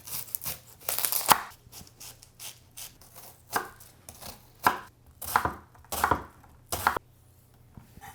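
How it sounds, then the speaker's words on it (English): A knife dices half an onion on a cutting board for Filipino chicken and rice porridge, giving a series of sharp chops in irregular bursts, close and clear with no talking. "we're gonna dice up half an onion"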